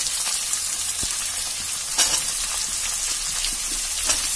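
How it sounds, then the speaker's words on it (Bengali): Potatoes fry in a pan of onions with dried chili, garlic and ground poppy seed, giving a steady, loud sizzle with a few scrapes of stirring and no voices. "এবার আলুটা দিয়ে দেবো আমি"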